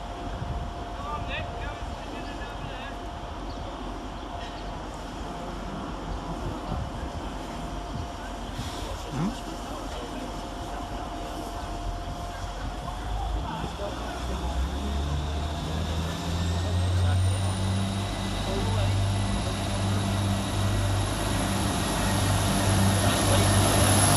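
A Class 175 diesel train, unit 175011, departs Chester station, its engine rumble building steadily over a continuous station ambience with a rising high whine toward the end.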